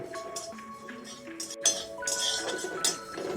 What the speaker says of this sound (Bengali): শুকনো খোলায় ভেজে নেব